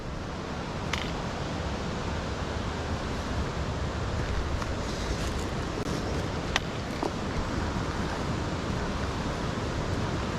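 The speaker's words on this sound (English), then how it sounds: "So that's a lot of water running through there." A creek runs beside a hiking trail near Laurel Falls, giving a steady broadband rush of flowing water that stays even and close throughout, with no voices.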